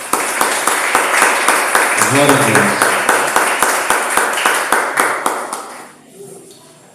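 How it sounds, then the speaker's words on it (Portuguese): A church congregation claps in a strong, rhythmic beat while a voice speaks over it, the evenly spaced claps continuing for several seconds before stopping abruptly into a quieter tail. "Pode aplaudir o Senhor."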